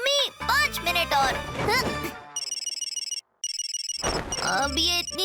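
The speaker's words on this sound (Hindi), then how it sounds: "अब ये इतनी सुबह फोन कौन कर रहा है?" A cartoon phone ringtone chirps in a steady repeating pattern for a couple of seconds, with voices talking before and after it.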